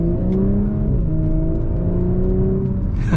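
A 2020 Audi S4 engine hums and revs through the gears in manual mode with sport mode on, a loud, steady low drone from inside the car with rising tones across each gear.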